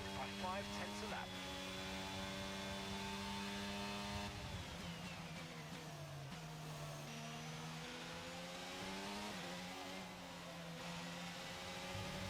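Race car engines scream through the Australian GP in F1 22, a steady high-pitched whine that drops and climbs with gear shifts, continuous and loud throughout, with talk over it.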